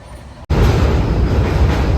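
Loud, steady rumble of a moving train heard from inside, with continuous rattling and wheel noise.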